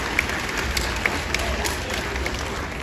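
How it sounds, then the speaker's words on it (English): Audience applause in the stands at a SeaWorld Orlando animal rescue show, a broad steady patter of many hands clapping, moderately loud and continuous with scattered sharper claps, no voices standing out. "Let's go ahead and give her a big round of applause."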